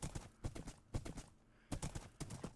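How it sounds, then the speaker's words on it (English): Skeletal horse hooves in a Minecraft-style block game clip-clop in quick, uneven clusters of soft thuds with short pauses between groups, fairly quiet and close. "I got myself a skeletal horse"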